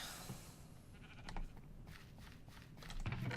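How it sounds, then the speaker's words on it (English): Minecraft sheep bleating in the game, a short animal call over low game ambience, followed by a louder burst near the end, with no talk. "Oh, did I hear a sheep? Oh yes, we have a sheep."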